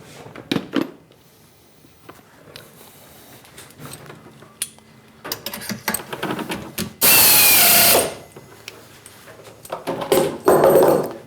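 A great big drill bit bores into a control panel box during machining. It starts with intermittent mechanical thunks and whirring, then builds to a loud, steady drilling burst, and ends with more uneven cutting noise.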